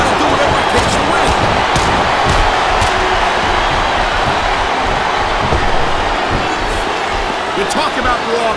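Wrestling arena crowd in WWE Smackdown vs Raw 2007 on Xbox, a steady, dense roar of cheering and clapping that holds loud throughout, with commentators talking over it.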